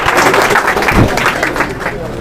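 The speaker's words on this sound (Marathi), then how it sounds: "ताईंसाठी एकदा जोरदार टाळ्या होऊ द्या मित्रांनो टाळ्यांचा आवाज कमी होऊ देऊ नका टाळ्यांचा आवाज चालू द्या" A large audience claps together at a classroom quiz event, a loud continuous burst of applause heard close up with speech mixed through it.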